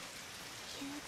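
Steady rain sound effect from the visual novel Steins;Gate, a dense even hiss of falling rain that fills the whole moment at moderate level, with a faint brief tone near the end.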